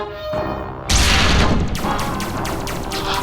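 Spaceship forward cannons fire and their shells explode in a sci-fi audio adventure: a sudden heavy boom breaks through a low hum, followed by rattling crashes and a series of sharp bursts fading out, with no speech.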